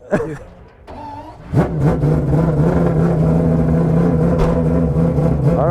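A six-rotor rotary engine car starts up with a sharp bark and then settles into a loud, sustained, buzzing high-rev drone, close by, with brief talk at the very start.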